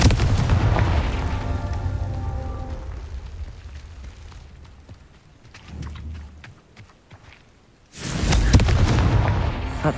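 A Confringo fire spell detonates in Hogwarts Legacy with a deep, rumbling boom that slowly fades, a smaller thump midway, then a second heavy blast bursting in near the end.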